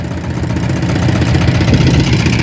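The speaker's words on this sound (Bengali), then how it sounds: "আমাদের সাথে একটা নৌকা যাচ্ছে।" A boat engine drones steadily and loudly throughout on the Shitalakshya River, a low continuous rumble with no pauses.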